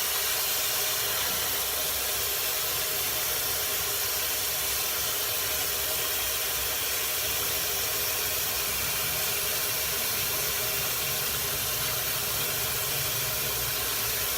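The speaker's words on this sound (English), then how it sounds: "what I'm doing right now is I'm rinsing the shrimp" Water running steadily from a kitchen tap over shrimp being rinsed, a constant broadband hiss throughout with no pauses and no talking.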